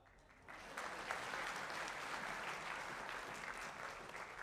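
Audience clapping at an athletics hall of fame induction ceremony, starting quietly then swelling into a sustained, even wash of many hands for several seconds, moderately distant and moderately loud.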